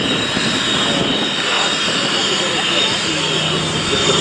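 A Eurofighter Typhoon jet at an RAF Cosford airshow roars loud and steady with broad, hissing engine noise, sustained throughout, with crowd voices faintly mixed underneath.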